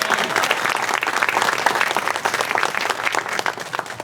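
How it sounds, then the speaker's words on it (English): Enthusiastic applause from a large crowd at an awards banquet, dense clapping sustained throughout at a steady, loud level. "Please give him a round of applause."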